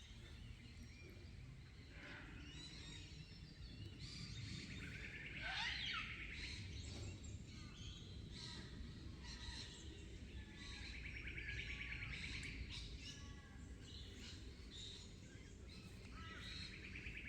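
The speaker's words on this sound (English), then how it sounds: "These cockatoos are talking to each other." Cockatoos call back and forth on an outdoor hike, their harsh, rising squawks repeating at moderate distance over a steady wash of bush ambience and insect hum.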